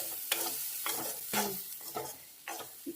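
Kanchara fruits simmering in a pan are stirred in rhythmic strokes, roughly five separate scraping, sizzling bursts spaced about half a second apart, close and fairly quiet, with no speech.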